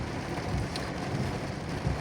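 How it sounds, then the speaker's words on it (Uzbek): Steady rain falls outside a parked car during a storm in Qarshi, a constant muffled patter drumming on the roof and windows, heard from within the cabin with no one speaking. "Yomg'ir to'xtamay yoqyapti."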